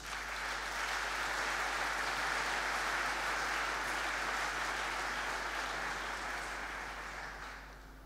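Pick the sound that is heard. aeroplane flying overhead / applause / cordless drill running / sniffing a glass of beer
applause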